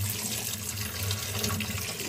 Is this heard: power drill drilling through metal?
no